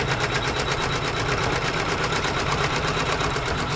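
Domestic sewing machine stitching quilt block fabric at a relatively low, steady speed, its rapid even needle clatter and motor hum continuous and close throughout with no talk.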